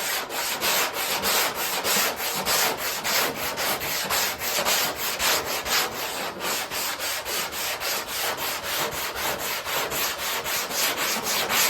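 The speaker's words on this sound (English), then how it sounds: "I'm going to leave the 80 grit on here just to graze the top of this off" Steady, rhythmic coarse sanding of body filler with 80-grit sandpaper, rapid back-and-forth strokes rasping over a hard surface without pause.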